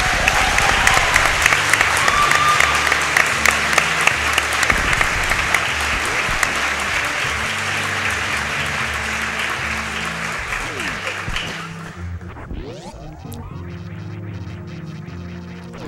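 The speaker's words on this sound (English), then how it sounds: "So let's give Oatsngoats a big round of applause." A large live audience at Summer Games Done Quick 2015, a speedrun marathon during a Super Metroid race, bursts into loud sustained applause with cheering that fades out after about eleven seconds, leaving quieter room sound.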